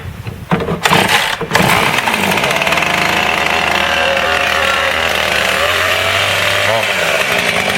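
A Husqvarna 450 Rancher chainsaw is pulled and fires up, a few sharp sputters before the engine catches and settles into a loud, steady, buzzing idle close by.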